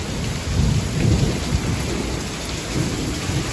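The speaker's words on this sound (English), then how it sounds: "Rain's just gushing everywhere. Listen to that thunder." A monsoon thunderstorm: heavy rain pours steadily with strong wind and a low rumble of thunder, loud and continuous throughout.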